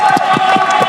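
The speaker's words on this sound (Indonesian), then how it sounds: "Tepuk tangan dulu dong, semangat teman ini." Crowd at a fun match competition cheering and clapping together, a loud, continuous roar of voices with rhythmic claps.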